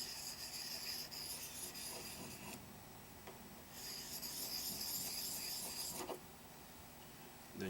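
A sharpener rubs along the bevel of a hatchet blade in repeated rasping strokes, with a short pause between passes, close up and fairly quiet.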